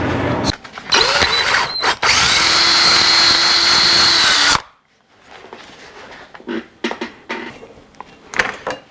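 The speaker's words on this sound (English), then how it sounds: "So what I was going to do is ream this hole out just a touch. Let's try it with a W drill." A W drill reams out a hole in a metal part for an indexable grinder pedestal, a loud steady whine for about two and a half seconds after short bursts, then it stops and quiet handling clatter follows.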